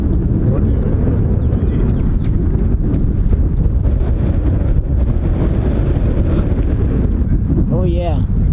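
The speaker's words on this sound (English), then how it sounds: "It kind of wind is picking up." Wind gusts batter the microphone outdoors during a fishing and birding outing, producing a loud, continuous low rumble that lasts the whole stretch, with a brief faint chirp near the end.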